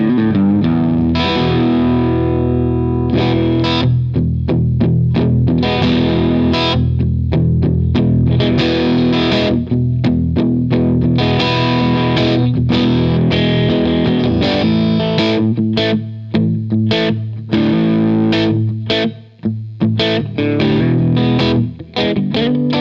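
Gretsch G2420T Streamliner hollow-body electric guitar on the middle pickup, strumming the Hendrix chord, loud and steady with rhythmic rapid strums and gaps over about twenty seconds, no talking.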